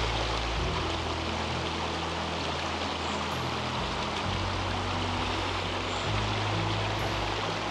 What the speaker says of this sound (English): And we made it to our second river crossing.